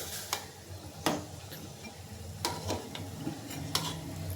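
Close scraping and clinking in a pan as Rajasthani baatis are flipped one by one over a low flame, with a faint low sizzle underneath and several sharp taps.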